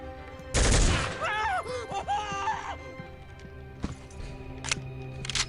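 A rifle fires a sharp, loud burst in burst mode in the Soldier of Fortune 2 video game, followed by a strained voice and a few fainter, scattered shots and impacts.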